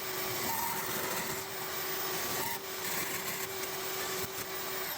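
Harsh, steady cutting noise with a constant whine as sheet metal is trimmed out of a Chevy van body during a chassis swap, running continuously and close up for the whole stretch with no talking.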